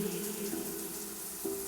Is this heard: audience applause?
no